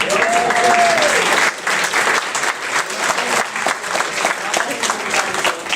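An audience at an 8th grade graduation ceremony applauds loudly and continuously, the clapping dipping briefly and then carrying on as a sustained round, with a little crowd noise mixed in.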